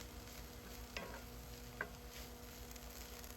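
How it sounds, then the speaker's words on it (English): Diced vegetables for a harvest hash cooking in a hot pan give off a faint, even sizzle under a low steady hum, broken by two small ticks or spatters. "nice and sizzling here."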